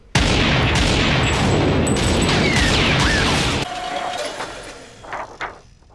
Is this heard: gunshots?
yes